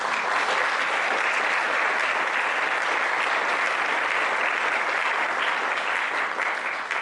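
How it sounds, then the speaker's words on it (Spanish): Sustained audience applause at a water and food quality seminar, honoring Dr. Marta Luz Misa Restrepo; dense, steady clapping from a full room continues evenly for the whole stretch with no voices over it. "elevemos sincera y genuinamente un gran aplauso para la doctora Marta Luz Misa Restrepo"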